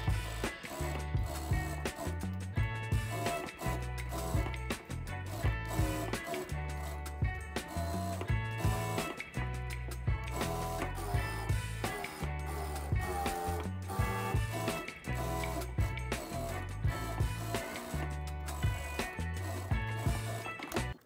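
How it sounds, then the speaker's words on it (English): A sewing machine top-stitches a baby nest in a steady, rapid mechanical rhythm, close and continuous, with brief pauses and a ticking, whirring texture throughout. "I will take it to my sewing machine and top stitch"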